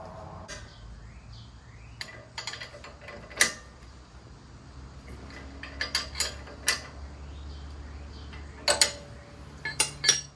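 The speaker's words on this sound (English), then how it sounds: "Going to tighten down the two clamps on either end of the tie rod, securing it in place so it can't rotate." A box wrench and socket tighten the tie rod clamps on a Jeep Wrangler TJ steering setup, giving sparse, close metallic clinks and ratcheting clicks scattered over a quiet background.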